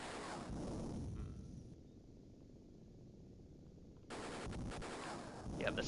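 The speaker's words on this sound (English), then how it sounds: "this is probably another one where rockets are our friend" Rockets and gunfire from the Sega Genesis helicopter game Jungle Strike rattle in dense, loud, lo-fi bursts, dipping quieter in the middle before another heavy barrage.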